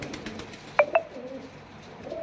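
Pigeons kept in a loft give two brief, soft coos in quick succession, fairly faint against a low background hum.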